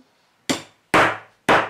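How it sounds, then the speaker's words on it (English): A wooden woodpecker-style toy hammer from a Tender Leaf Toys tool box strikes three times, each hit a crisp, close wooden knock with a short decay and quiet gaps between. "Tap Tap hammer."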